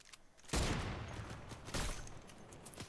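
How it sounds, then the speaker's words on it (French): Bursts of automatic gunfire in a battle royale shooter game, two dense volleys crackling loudly in quick succession with no talking over them. "C'est qui tire là?"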